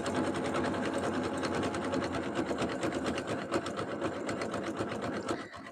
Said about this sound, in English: I've got two sticky fabrics getting sewn together